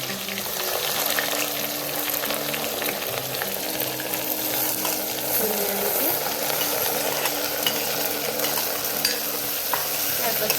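Sliced ridge gourd and garlic fry in oil while being stirred, a loud, dense, continuous sizzle with a low hum beneath and occasional faint scrapes.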